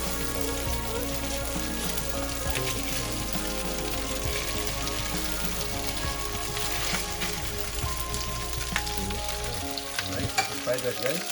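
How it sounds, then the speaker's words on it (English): Leftover day-old rice frying in a pan, a loud, dense, steady sizzle like rain that holds unbroken, with a few stirring knocks near the end. "we don't want to waste it, so we can just make it into fried rice"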